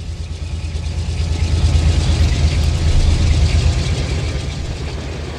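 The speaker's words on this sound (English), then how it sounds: "The train." Train passing in the Run8 V2 railroad simulator, a loud continuous low rumble with rattling and clanking of cars that swells toward the middle and holds steady.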